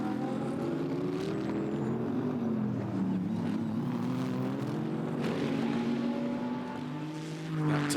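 GT race cars at the Red Bull Ring, among them a Mercedes-Benz, drone past in a continuous engine roar that shifts in pitch as they pass, heard from a distance, steady throughout with no voices.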